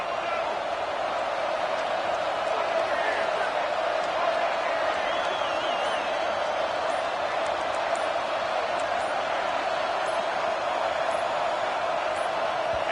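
Home crowd at an NC State college football stadium making noise that forces a false start: a continuous, loud, dense roar with scattered shouts and whistles, steady from start to end.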